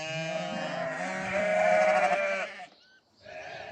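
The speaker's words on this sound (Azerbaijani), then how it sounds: "25 baş birinci qarna təmiz tatallar cinsi balalı şişəklər" First-lamb Tatal breed yearling ewes and their lambs bleat nearby, one long, loud, wavering bleat followed by a brief pause and the start of another call.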